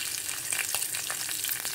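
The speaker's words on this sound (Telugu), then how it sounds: "ఇప్పుడు తర్వాత పచ్చిమిర్చి వేసుకుందాం" Green chillies added to hot oil with cumin seeds in a pan, giving a steady, close crackling sizzle with brief pops throughout, no voices.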